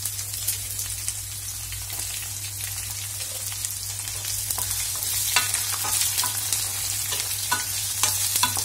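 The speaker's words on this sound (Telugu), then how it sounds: "అలాగే మనం ముందుగా కట్ చేసి పెట్టుకున్న ఆనియన్స్ ముక్కలు కూడా వేసుకోవాలి." Chopped onion pieces fry in a pan for a stir-fried amaranth greens dish, a continuous close crackling sizzle with light stirring scrapes and no talking.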